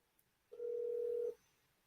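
A telephone ringback or dial tone sounds during a call back: a single steady tone lasting under a second, fairly quiet and clean with nothing else around it.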